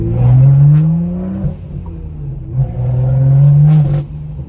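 A straight-piped BMW N55 engine revs in two rising and falling pulls, loud and close, with a raspy crackling overrun between them.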